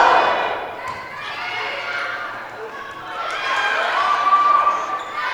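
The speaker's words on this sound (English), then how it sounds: "The crowd here is loud." Loud crowd at a college volleyball championship match in a gym, a steady roar of voices and cheering swelling toward the end, with a commentator talking over it.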